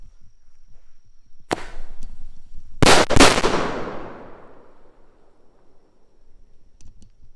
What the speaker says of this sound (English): here goes a double shot salute.